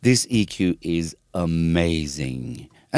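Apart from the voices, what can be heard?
None of the usual background noises is heard.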